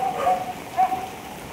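Heavy rain pouring steadily during street flooding in a Fairview, Quezon City subdivision, a dense continuous hiss of falling water with no talking.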